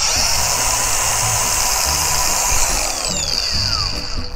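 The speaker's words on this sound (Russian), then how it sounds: "Из функций у болгарки имеется плавный пуск." A Makita DGA511 cordless angle grinder with soft start whines at a steady high pitch, its motor tone shifting slightly as it runs continuously up close.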